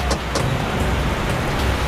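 A car speeding along in a police pursuit, a steady loud engine and road roar with a couple of brief higher whooshes as it races past traffic.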